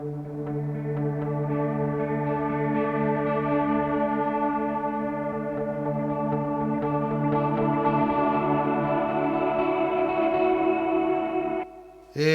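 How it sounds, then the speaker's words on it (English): A Microcosm guitar pedal produces a lush, sustained reverb wash of layered, shimmering guitar tones that hangs steadily for about twelve seconds, then cuts off abruptly. "So the microcosm also has this incredibly beautiful reverb as well."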